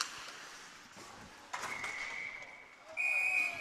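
A referee's whistle sounds during a Tier 1 junior ice hockey game between the Utica Jr. Comets and NJ 87's, a steady piercing tone held for over a second, then a second, louder and sharper blast over arena crowd noise.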